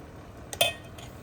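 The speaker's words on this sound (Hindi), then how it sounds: "अब डालेंगे चम्मच से ये बैटर" A spoon clinks against a greased waffle maker as batter is spooned in, giving one short bright metallic tap after a softer touch, close and quiet.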